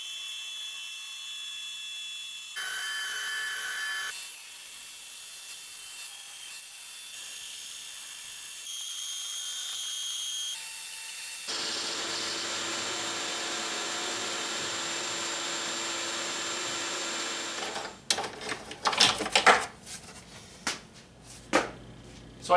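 A carving machine cuts a nail-and-gear design into wood, droning and whining steadily through changing passes before ending in a run of sharp, irregular knocks and taps.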